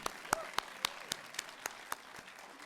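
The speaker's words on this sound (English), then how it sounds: "Why don't you give them a big round of applause?" A quiet church congregation offers light applause for blessed couples, a few sparse, distinct claps spaced about a quarter second apart, faint and thinning out toward the end.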